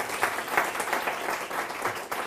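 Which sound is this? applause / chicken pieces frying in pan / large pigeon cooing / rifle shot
applause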